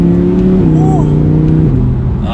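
Audi R8 V10 coupe engine rumbling steadily through downshifts, a deep continuous drone whose pitch drops in clear steps as the gears change, close and loud throughout.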